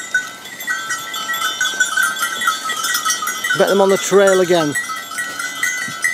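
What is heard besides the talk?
goats bleating on a trail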